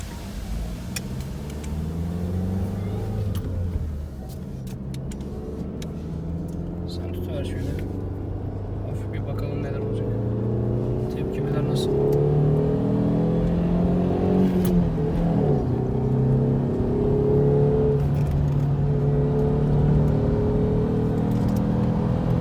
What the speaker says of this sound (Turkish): Fazla abartmadan hafif bir gaz basacağız.